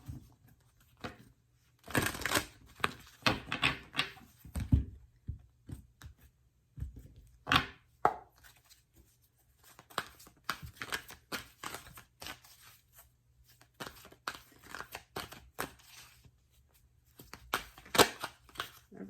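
Tarot cards being shuffled by hand in a quiet room, a run of crisp, papery riffles and flicks in irregular bursts, close and fairly clear, with no talking.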